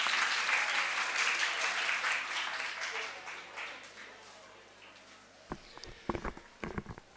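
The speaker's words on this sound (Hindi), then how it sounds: "एक बार भरपूर तालियों में मिस्टर अली फ्रॉम ब्रिटिश" An audience at the Pakistan Learning Festival inaugural session in Lahore applauds a British Council guest, with dense clapping that slowly fades, then a few footsteps and bumps as the applause ends.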